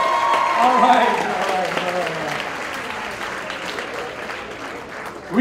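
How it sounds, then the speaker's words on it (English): Wedding reception guests applaud the couple, sustained clapping from a crowd indoors that gradually tapers off, with someone speaking over the start. "Round of applause for the couple."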